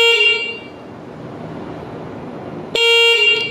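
Horn of an Ofero Magical electric bicycle, two loud, bright electronic beeps separated by a pause with low background noise, the second sounding right after a brief silence.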